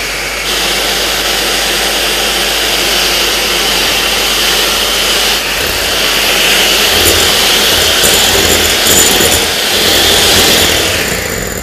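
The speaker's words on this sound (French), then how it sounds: "Je vais commencer à battre à vitesse lente et très rapidement, je vais continuer à vitesse très rapide." An electric mixer beats egg whites for French meringue at high speed, a loud steady motor whir filling the clip, with the pitch and intensity rising slightly partway through and no talking.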